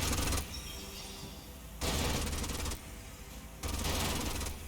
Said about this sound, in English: We Gatling gun this.